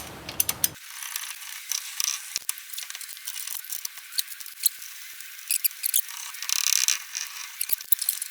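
Ratcheting clicks as a puller tool is tightened down to push a seized axle out of a Daihatsu Acty during a timing belt and engine removal job, a steady run of close metallic clicks over about eight seconds without talk.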